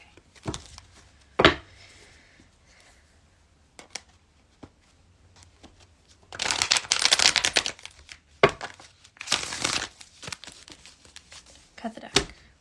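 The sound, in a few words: shuffling a deck of reading cards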